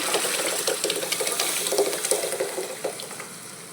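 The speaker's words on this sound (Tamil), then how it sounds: "இப்போ வந்து தாளிச்சிடலாம் தாளிக்கிறதுக்கு நான் வந்து பார்த்திங்கன்னா வெங்காயம் அதுக்கப்புறம் கடுகு காஞ்சி கடலா இதுதான் போட்டிருக்கேன்" Onion, mustard seeds and chana dal temper in hot oil for a home-cooked kuzhambu, giving a steady close crackling sizzle with light bubbling throughout and no speech.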